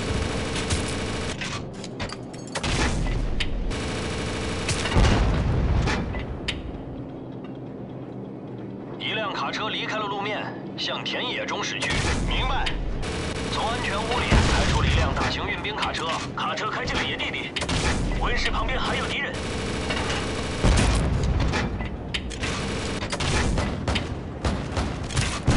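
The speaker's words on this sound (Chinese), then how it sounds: "危险距离，切换至25毫米机炮。" 25mm autocannon fire in a Call of Duty campaign mission, loud repeated heavy bursts and booming impacts over a dense battle din, with radio voices talking throughout.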